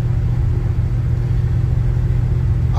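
The engine of a 1978 Chevy C10 pickup idles steadily after a cold start on a freezing night, a loud, close, low rumble that holds constant throughout with no talking.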